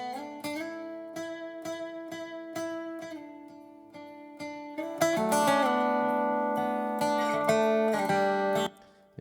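A doubled vocal track with a little room reverb, sustained sung notes stacked in close unison over steady musical backing, full and continuous with no speech.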